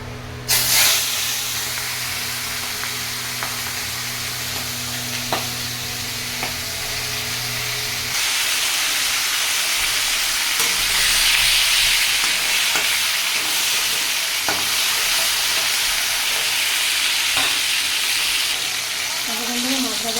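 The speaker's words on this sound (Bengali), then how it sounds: "কড়াই বসিয়ে দিয়েছি তেলও গরম হয়ে গেছে তো মাছগুলো প্রথমে ভেজে তুলে নেব" Fish fry in hot oil in a wok, giving a steady, loud sizzle and hiss that runs the whole time and grows slightly brighter partway through, with faint stirring clinks.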